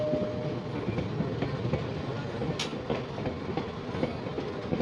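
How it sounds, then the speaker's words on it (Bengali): A meter-gauge Delvada passenger train rolling into Bisavadar station platform, a steady rumbling clatter of wheels over rail joints with rhythmic clicks and a brief squeal, close and continuous. "বিসাবাদার স্টেশনে ঢুকছে প্ল্যাটফর্মে"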